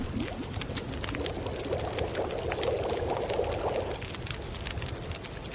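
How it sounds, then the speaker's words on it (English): Water heating in a pot in the survival game The Long Dark, a steady bubbling, pouring wash that holds near and even throughout, with no talk over it. "time for us to boil some water"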